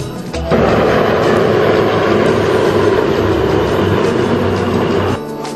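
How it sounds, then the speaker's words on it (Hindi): Air Force Sarang team helicopters flying aerobatics at the Aero India 2013 air show give a loud, steady, broad rotor and engine roar that holds for about five seconds, then cuts away. "सारंग एयरफोर्स की एरोबिक्स टीम है जो हेलीकॉप्टरों के जरिए करतब दिखाती है"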